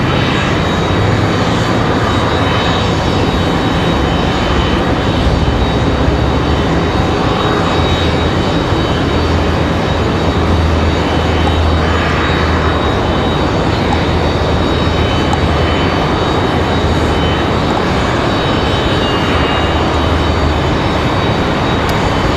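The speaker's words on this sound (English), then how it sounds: "It's an A320-200. United 2163, they're headed out to Washington Dulles." A United Airbus A320-200 airliner departing for Washington Dulles from Raleigh Durham airport, its jet roar sustained and loud for the whole stretch, with slow swells and a low rumble underneath.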